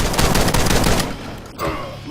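Rapid gunfire from the shooter video game The Club, a loud, dense burst of shots that cuts off partway, followed by quieter game sounds and a brief voice.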